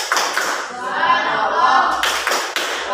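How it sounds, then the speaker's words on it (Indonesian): A classroom group performs a rhythmic clapping chant, tepuk semangat, with bursts of hand claps near the start and again around the two-second mark, with mixed voices chanting through the middle. "Kita tepuk semangat terlebih dahulu."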